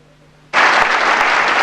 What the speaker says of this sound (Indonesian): Berikan tepuk tangan penuh ucapan syukur